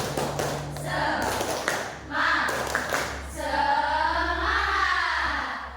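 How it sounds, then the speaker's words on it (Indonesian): Pupils in a classroom perform a patterned clapping cheer, with rhythmic hand claps mixed into chanting children's voices, loud and close throughout. "Tepuk 1, tepuk 2, tepuk semangat."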